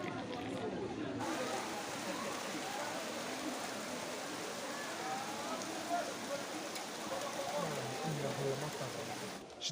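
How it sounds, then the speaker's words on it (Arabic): Rain falls steadily outdoors at Ain Zarqa near Tetouan, a dense, even patter on surfaces that holds for the whole stretch at a fairly soft, distant level. "شدتني الشتا في عين زرقاء"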